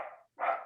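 A dog barks twice in quick succession indoors, two short separate woofs with a brief pause between them, moderately loud.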